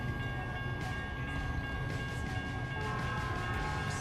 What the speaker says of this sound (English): That is a pretty short-ass train.